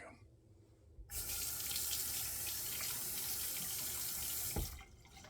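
A bathroom tap gushes into a sink after a wet shave, a loud, steady stream that starts abruptly, runs for about three and a half seconds, then cuts off, with no talking.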